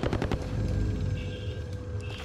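Gunfire in Call of Duty Warzone, a quick burst of loud automatic shots up front followed by rumbling battle noise and fainter distant tones.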